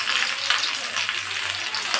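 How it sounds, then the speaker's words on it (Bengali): Small fish for banana-leaf paturi sizzling steadily in oil in a kadai, a dense, even frying hiss with no talk. "তো এবার মাছগুলো আমি কড়ার মধ্যে দিয়ে দেব।"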